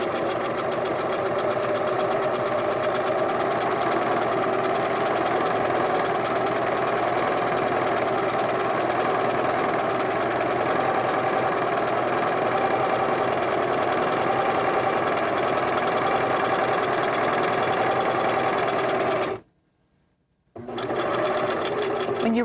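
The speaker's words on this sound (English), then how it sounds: "Set your sewing machine for a straight stitch and stitch a 1/4 inch seam allowance" A sewing machine runs a straight-stitch quarter-inch quilt seam, a fast steady mechanical whir close by for about twenty seconds, cutting out briefly near the end before starting again, with faint speech over it.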